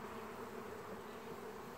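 Honeybees buzzing inside an opened hive, a dense steady drone close to the microphone with no gaps, fairly quiet overall and no talking.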